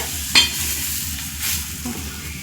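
Egg-based breakfast snack frying in a pan, a steady soft sizzle running throughout with a brief scrape or tap near the start, close and moderately loud, no voices.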